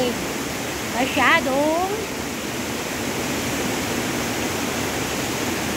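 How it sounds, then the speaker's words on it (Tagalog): Rain falls steadily at a mountain resort, a constant broad hiss of water that continues throughout, with a brief voice heard early on. "Tapos pag akyat namin dito, umulan. Kaya ngayon, yan ang tubig."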